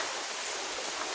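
Rain falling outside a house onto the yard, a faint, even hiss of steady drops with no break and no voices.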